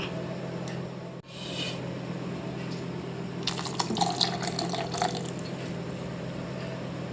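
Tamarind water is poured into a pot of ozhichu curry, a splashing trickle rising after a few seconds and lasting a couple of seconds over a steady background hum.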